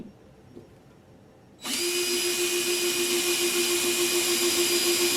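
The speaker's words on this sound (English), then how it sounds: "I gotta start a pilot hole." A power drill starts abruptly after a quiet moment and runs steadily at high speed, boring a pilot hole into a ceiling for a home theater ceiling speaker install; loud, close and continuous.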